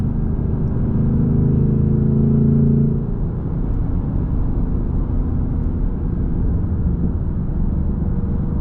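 A 2024 Mustang GT V8 with active valve exhaust in track mode cruising steadily on the highway in sixth gear, a continuous low engine and road rumble with a slightly stronger stretch in the first few seconds.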